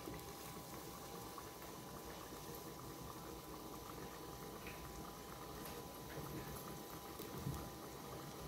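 Tamarind water simmers in a covered pot on a home stove, a faint steady bubbling and hiss that runs unbroken throughout with no voices.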